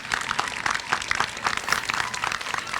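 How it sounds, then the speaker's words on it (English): An audience of students, staff and guests at a preschool program event in a school applauds with steady, dense clapping throughout, fairly close and evenly loud. "Another round of applause."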